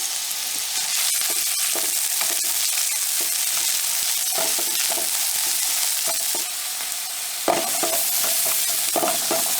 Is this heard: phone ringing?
no